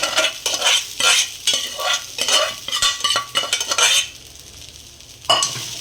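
Soaked sabudana added to a hot pan for khichdi and stirred, bursts of close scraping and clattering spoon strokes over a soft sizzle, in an irregular rhythm that eases into quieter frying near the end.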